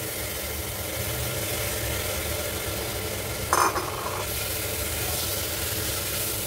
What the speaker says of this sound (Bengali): এবার আমি এটাকে ভালো করে নেড়ে নেব।